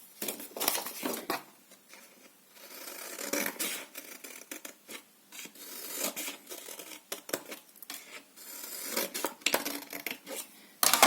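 Scissors snip through the cardboard tabs of a handmade chocolate box in a rapid string of close crisp cuts and paper rustles, with short pauses between bursts.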